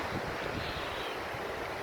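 A steady, rushing wash of a mountain stream at Kızılgeçit plateau, Silifke, Mersin, constant and fairly close, blended with some wind noise across the microphone.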